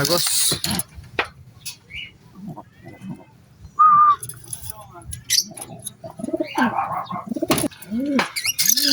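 Pigeons cooing and flapping their wings nearby at a loft, with brief bird calls and rustling, while people talk throughout.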